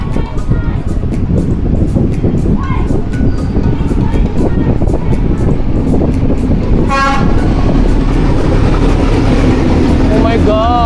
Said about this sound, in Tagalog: So, hintayin na natin yung train.